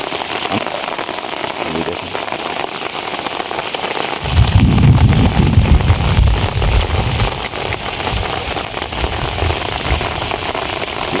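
Stormy rain with wind over a flooded beel, a loud continuous wash of falling rain with a deeper rumbling surge joining midway and holding to the end.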